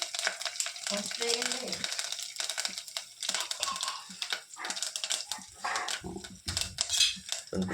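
Dried red chillies and turmeric frying in oil in a pan, a close, crackling sizzle with popping and stirring clicks, little or no talk.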